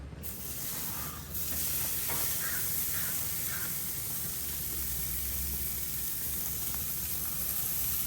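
A ribeye steak sears in a hot pan, giving a continuous loud hiss and sizzle with faint scattered pops and crackles throughout.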